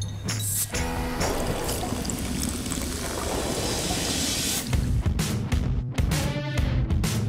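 Coke Zero being poured, a steady fizzing liquid stream running for several seconds, followed by louder bubbling and splashing toward the end; no voices.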